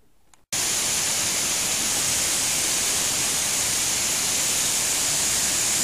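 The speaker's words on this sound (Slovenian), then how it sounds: "tole je največji potočni slap v Sloveniji, slap šum" Slap Šum, the largest stream waterfall in Slovenia, roars as a loud, steady broadband rush that cuts in abruptly after a short quiet moment and continues unbroken, close and without talk.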